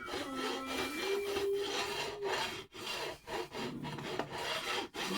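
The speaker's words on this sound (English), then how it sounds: "Let's get the bevel file and just do it that way. That way it'll take all that lacquer off the end of the frets." A bevel file rasping lacquer off the fret ends of a Fender guitar, repeated close scraping strokes in a steady back-and-forth rhythm with short pauses between passes, no voices.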